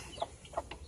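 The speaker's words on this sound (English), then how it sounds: "that's the rooster" A couple of short clucking calls from a rooster, fairly quiet and spaced apart against a faint background.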